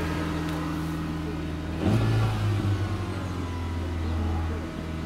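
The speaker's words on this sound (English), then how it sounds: "That's a very Japanese idle." A Japanese car engine idles steadily after a bargain £200 purchase, a low continuous hum with a brief rise partway through, close and fairly loud.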